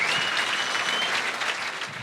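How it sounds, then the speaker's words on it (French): An audience at a regional business event applauds continuously, a dense, even wash of clapping from many hands that holds steady for a couple of seconds. "je pense qu'on peut déjà applaudir la région qu'on ait autant d'entreprises de 50 ans et plus."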